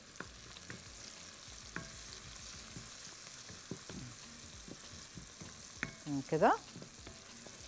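Onions fry in a pan as a filling for cheese and sausage sambousek, a faint steady sizzle under occasional stirring, with a brief louder scrape of the spoon near the end.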